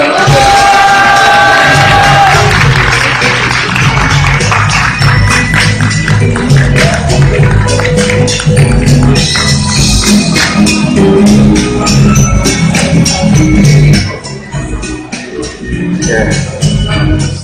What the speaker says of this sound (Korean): 큰 박수로 김원우 상임 대표님 모시도록 하겠습니다